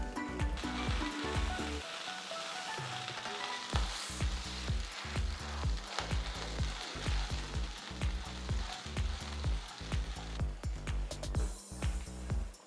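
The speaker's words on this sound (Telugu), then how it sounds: "పచ్చిమిర్చి కూడా వేసి వేయించుకోవాలి. కొన్ని వెల్లుల్లి రెబ్బలు కూడా వేసుకుంటున్నాను." Green chillies and garlic cloves fry in oil in a pan, giving a continuous bright sizzle with a rhythmic, beat-like background running underneath throughout.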